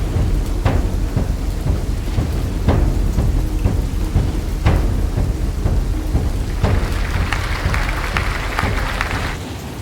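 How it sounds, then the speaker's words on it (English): Steady heavy rain with several sharp thunder cracks and rumbles throughout, loud and close, with a brighter hiss swelling near the end, from the Roman city-builder game Pax Augusta. "It's raining again in Italy."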